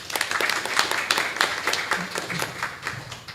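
Audience applause at an evening awards ceremony for a national public-procurement arbitration essay contest, a dense, steady patter of many hands clapping fairly close and alone for a few seconds.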